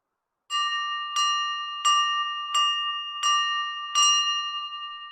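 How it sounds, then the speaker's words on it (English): A bright electronic bell chime marks a quiz poll during a healthcare talk show, ringing six evenly spaced, sustained strikes that overlap into a steady ringing tone, loud and clear with no talk over it. "there is our poll party bell."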